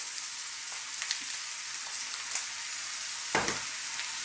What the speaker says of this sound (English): Let's get those spices cooked but not burnt